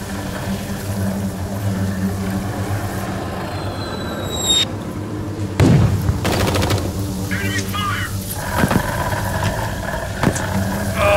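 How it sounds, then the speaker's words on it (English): Enemy gunfire in the Blair Witch video game: sharp bursts of shots cut through a rumbling, noisy background, with a loud crack and rapid fire near the middle and scattered hits later, mixed with faint speech. "Enemy fire!"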